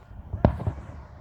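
A single firework bursts at night with a sharp, loud crack followed by a brief crackling decay and a faint echo.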